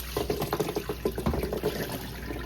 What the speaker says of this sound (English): So right now I'm just going to strain all of this